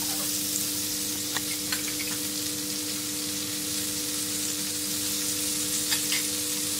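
Butter and oil heat in a pan with a steady, even crackling sizzle, close and unbroken, with a few soft pops and no voices.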